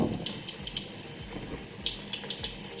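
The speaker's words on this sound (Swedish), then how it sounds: "Jag tar lite vatten på." Water from a kitchen tap splashes onto a dirty plate held under the stream, a close steady hiss with small irregular spatters and drips as the flow hits the dish.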